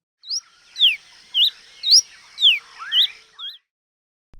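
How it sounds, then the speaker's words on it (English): Yellow-billed cardinal calling: seven clear, sweet whistled chirps in a regular sequence, close and bright against silence. "Y is for yellow-billed cardinal."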